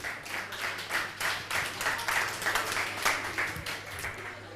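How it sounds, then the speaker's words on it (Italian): Players applaud at a sports draw event in the Veneto, a steady patter of claps from a small group at moderate distance, without talk over it. "Anche i giocatori applaudono"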